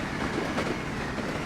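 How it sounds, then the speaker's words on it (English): A train rolls along track in a video game, with a steady low rumble and faint rhythmic clacking of wheels over rail joints, continuous and moderately loud. "Got the clacky track."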